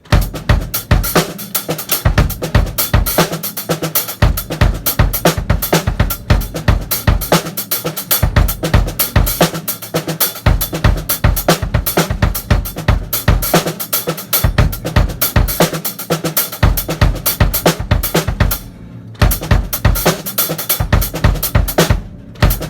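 A drum kit plays a steady, busy looped groove in a 3-over-4 pattern with repeating kick and cymbal hits, loud and close, no voices.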